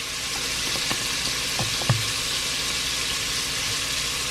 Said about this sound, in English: you want your bacon to cook to a nice, crispy